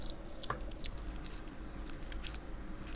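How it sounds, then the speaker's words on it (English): Close, crisp munching of Arby's fries, with soft crunches and wet squishy bites repeating steadily for a few seconds, no talking over it. "I'm munching."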